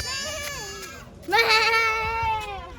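Goats bleat in wavering, drawn-out calls over steady background noise, with a louder cry about halfway through.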